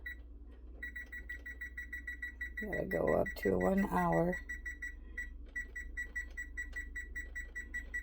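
A kitchen oven timer chirps in rapid repeated beeps while being set for one hour, bright electronic tones pulsing steadily with a brief gap as someone talks over them.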